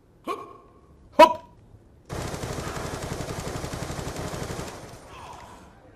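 The Peacekeeper fires in Call of Duty Black Ops 2: two sharp single shots, then a loud sustained rapid-fire burst of several seconds that cuts off abruptly, followed by faint background noise.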